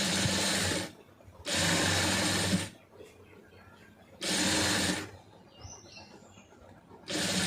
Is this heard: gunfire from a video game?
no